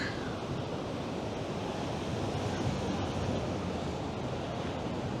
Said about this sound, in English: As the waves roll in.